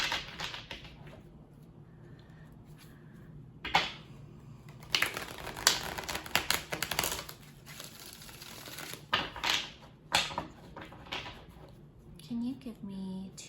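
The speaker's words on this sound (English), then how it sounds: "I'm gonna pull out my Rider-Waite deck now and just shuffle it about a bit." A Rider-Waite tarot deck is shuffled by hand in quick bursts of papery riffling and tapping, close and moderately loud, with pauses between handfuls and a short stretch of speech near the end.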